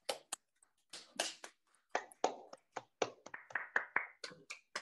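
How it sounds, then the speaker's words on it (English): Scattered, uneven claps from a handful of participants unmuted on a video call after an academic math talk, sharp and sparse, with quiet gaps between bursts. "so you can unmute and clap."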